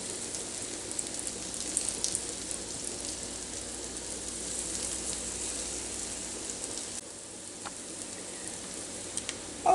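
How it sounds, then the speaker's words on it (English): Zucchini and squash bites sizzle steadily in hot butter in a pan, a dense, even crackle that runs throughout with faint small pops and no talk. "now I have dropped the zucchini and squash mixture into my hot butter"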